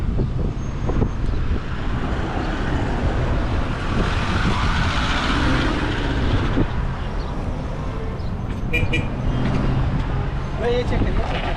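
Road traffic with cars and heavier vehicles such as buses and trucks passing steadily near a roadside in Madina, with a voice talking over the constant rumble.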